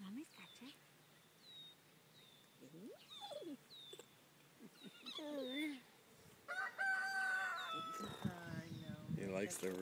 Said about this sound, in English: Likes the rooster.